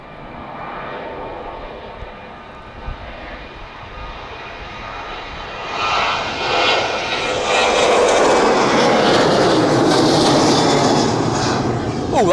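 A Ryanair jet airliner takes off from Manchester Airport, its engine roar building from a steady distant rumble into a loud, broad, swelling thrust that holds near its peak through the end.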